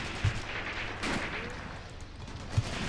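Gunfire in the WWII tactics game Graviteam Tactics: Mius Front, heard as a few sharp distant shots with a steady rumble of battle, including a .50 caliber machine gun, over a short stretch.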